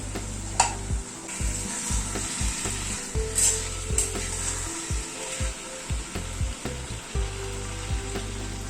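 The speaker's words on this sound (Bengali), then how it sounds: "এবার একে একে সব সবজিগুলো অ্যাড করে দিচ্ছি। আলুটা অ্যাড করে দিলাম, গাজরটা অ্যাড করে দিচ্ছি, বিনসটাও দিয়ে দিলাম" Potato, carrot and beans frying and being stirred in a pan, a steady close sizzle broken by repeated scraping strokes of the spoon throughout.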